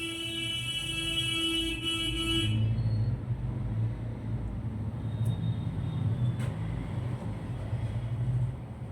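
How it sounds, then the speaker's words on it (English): A couple of car horns blare together for a few seconds, then stop, leaving a rumbling traffic background with faint distant toots. "For what? Why are they honking"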